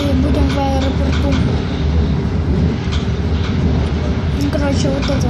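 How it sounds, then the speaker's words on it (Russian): Loud continuous rumble of a moving train interior, steady rolling noise with faint rhythmic clatter throughout. "Я пока что еду на поезде"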